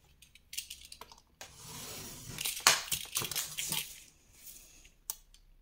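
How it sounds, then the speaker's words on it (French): Paper being trimmed away from a scrapbook frame on a craft table, with close crinkling, tearing and crunching of paper in irregular bursts, one sharper snap near the middle, alone without talk. "je vais enlever l'excédent de papier."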